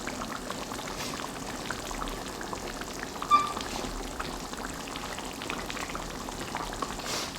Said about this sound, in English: You don't want it to be boiling, you want it to just be slightly simmering.